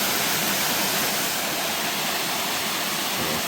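River water rushing through a rocky valley between two hills, a dense, continuous roar of flowing water that stays even and fairly loud throughout, with no talking.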